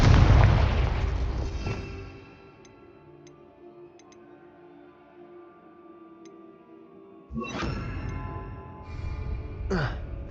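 A Confringo blast in Hogwarts Legacy opens with a heavy boom that fades into a quiet hum with faint ticks, followed by two more sharp bursts near the end.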